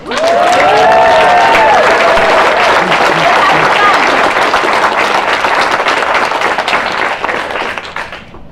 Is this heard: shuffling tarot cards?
no